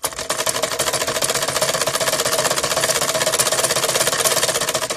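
A sewing machine stitches the seams of a simple salwar, running in a steady, continuous, rapid mechanical chatter close by for the whole stretch with no talk.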